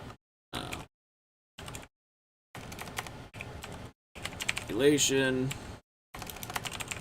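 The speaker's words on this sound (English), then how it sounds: "I'm bad at typing too" Computer keyboard typing comes in bursts of clicks separated by short pauses, with one word spoken partway through.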